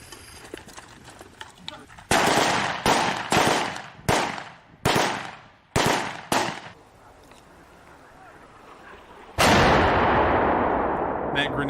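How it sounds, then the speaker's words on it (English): Gunfire in combat footage from the fighting for Lyman in Ukraine: a rapid volley of about eight loud, close shots in uneven rhythm, followed by a pause and another sustained burst that trails off. "we can now see this guy also firing straight down the road"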